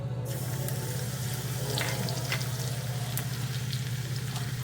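Mustard seeds spluttering and crackling in hot oil in a pan, a steady dense sizzle with scattered sharper pops, fairly close and moderately quiet.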